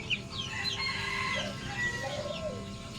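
Young chicks with swollen eyes chirp and cluck in a steady, close stream of thin, high calls. No one speaks.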